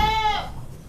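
A single short, loud bleat from a goat brought from Blitar, a breeding doe that has kidded twice, rings out close by and then fades into quiet background noise.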